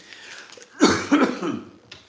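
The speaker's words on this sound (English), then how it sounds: "I have a little bit of a cough." A single harsh cough, close and fairly loud, followed by a brief throat-clearing sound in a quiet room.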